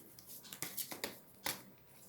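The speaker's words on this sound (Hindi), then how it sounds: "चलिए हम 3 और कार्ड निकालेंगे।" Tarot cards shuffled and drawn from a deck, a few quiet riffling and slapping bursts with short pauses between them, close and soft, with no voices.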